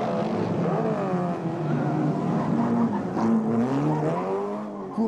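Vintage race cars roar around a street circuit among town ramparts, a continuous engine drone with shifting pitch as cars pass and change gear, fairly loud, with no talking.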